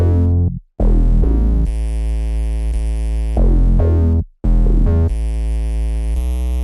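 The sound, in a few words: two layered 808 basses, Dillard 2 and Evangelic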